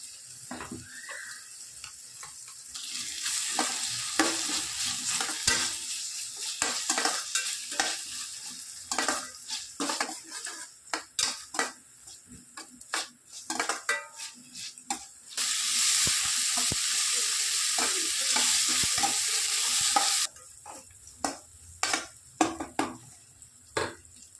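Small-cut tomato tipped into a pan for beetroot sambar, with bursts of sizzling frying and a string of scraping stir strokes of a spoon against the pan, near and fairly loud, no talk.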